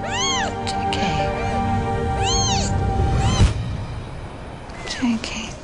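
A kitten meows several times in quick drawn-out calls, close and clear, some strained and wavering, followed by fainter rustling and a short soft sound near the end.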